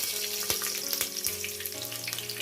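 Curry leaves and cashews fry in a pan with a steady close hiss and crackle, a few sharper pops standing out from the sizzle.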